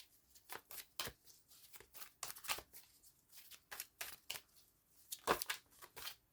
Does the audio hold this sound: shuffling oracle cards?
yes